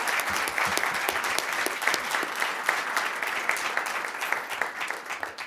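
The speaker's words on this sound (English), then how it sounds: "So a round of applause." A large audience at a Duke Law Dean's Cup final round breaks into sustained applause for the panel, a dense, steady roar of many hands clapping that holds for several seconds.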